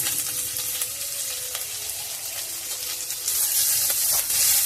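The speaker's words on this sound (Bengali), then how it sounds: "আদাটাও এই ফোড়নের সাথে একটু লাল করে ভেজে নেব" Chopped ginger fries in a cardamom and clove tempering, giving a steady close sizzle that grows louder and brighter toward the end, with faint stirring and no talk.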